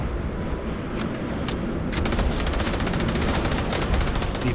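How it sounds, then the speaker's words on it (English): Rapid automatic gunfire firing depleted uranium rounds in the video game Starfield, dense and loud, with clusters of sharp shots over a constant roaring background. "Depleted uranium rounds."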